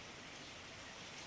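Steady rain pours down over highland hot springs, a dense, even hiss of drops striking water and stone, close and continuous with no voices.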